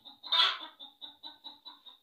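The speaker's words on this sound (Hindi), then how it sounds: "मेरी मुर्गी भी शोर डाल रही है" A hen clucks nearby about to lay an egg, one loud drawn-out squawk followed by a steady rhythm of six or seven short, evenly spaced clucks, clear and alone.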